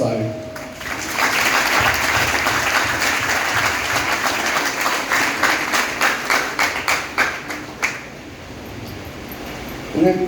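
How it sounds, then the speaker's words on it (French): An audience claps for a school at a ceremony honouring laureates in Saint-Marc, a thick burst of applause that thins into scattered, distinct claps before fading, with a voice returning at the end. "m'a demandé un tonnerre d'applaudissements pour l'école"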